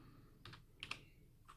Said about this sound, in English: Just typing a few letters